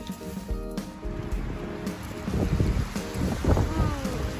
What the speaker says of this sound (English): Windy, windy.